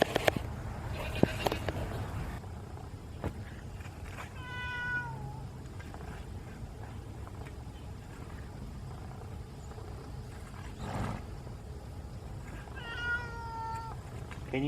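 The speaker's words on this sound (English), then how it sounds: "It's a cat on a hot tin roof." A cat on a hot asphalt roof meows twice, clear descending cries several seconds apart, over a low outdoor rumble with faint background noise and brief knocks early on.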